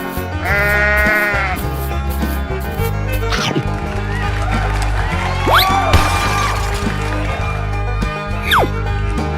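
A sheep bleating in a playful animal-transformation toy setting: a loud, wavering bleat near the start, followed by bright chirpy sound effects and tones over a steady electronic music bed.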